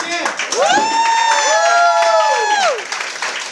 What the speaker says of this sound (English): can we give Regina a round of applause again?